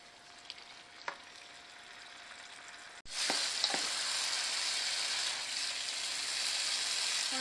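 Onions with masala frying in a pan for dhaba-style bhindi masala (okra): a quiet sizzle with a few stirring clicks, then a sudden louder, steady broadband hiss as the frying intensifies, no talk.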